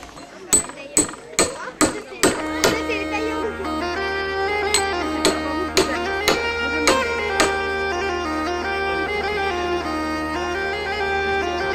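A wooden mallet striking a wood chisel: a series of sharp, evenly spaced knocks, several quick blows at first then spaced strikes over a sustained ringing tone.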